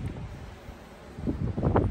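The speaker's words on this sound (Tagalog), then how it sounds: "Sobrang hangin." Strong wind buffeting a handheld microphone outdoors on a cold day in Armenia, a low roaring rumble that swells louder toward the end, with no voices heard.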